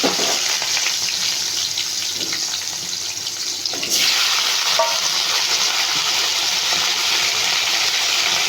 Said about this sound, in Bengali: এই কাঁকরোলগুলোকে আমি এবার একটু নুন আর হলুদ দিয়ে ভেজে নেবো।